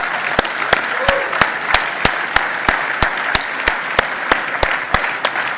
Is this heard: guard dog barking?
no